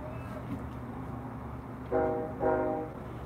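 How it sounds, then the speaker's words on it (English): A train passes near a baseball field during a high school game, sounding two short horn blasts in quick succession, moderately distant over steady outdoor background noise. "And the train is back."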